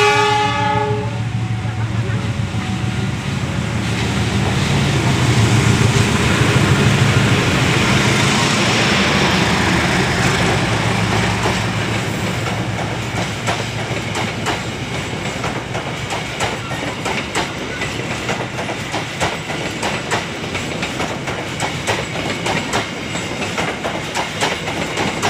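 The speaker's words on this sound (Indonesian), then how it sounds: "Nah ini kereta api Cikurai sudah diberangkatkan ya" The Cikurai passenger train sounds its horn in long blasts while departing Cicalengka station, then pulls away with rhythmic wheel clatter building on the rails, loud and close.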